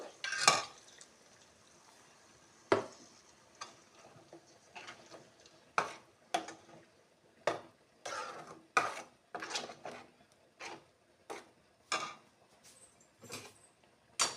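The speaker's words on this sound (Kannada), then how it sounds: "ಈ ಕಡೆ ನಾನು ಫ್ರೈ ಮಾಡಿಟ್ಟ ಕ್ಯಾಪ್ಸಿಕಮ್ ಮತ್ತು ಕ್ಯಾರೆಟನ್ನು ಕೂಡ ಮಿಕ್ಸ್ ಮಾಡ್ತಾ ಇದ್ದೀನಿ" Fried capsicum and carrot stirred into paneer masala in a pan, a series of irregular clinks and scrapes of the spoon, close and fairly faint, with quiet gaps between strokes.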